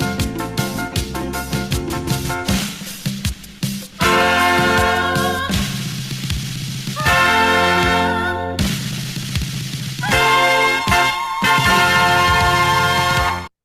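An upbeat calypso tune plays with steady rhythmic backing and bright melodic lines, loud and continuous, with brief dips between sections.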